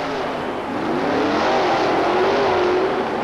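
A rear-engine Chevrolet monster truck roars down the track at a 1991 USHRA race in Roanoke, its loud, continuous engine growl climbing in pitch as it accelerates.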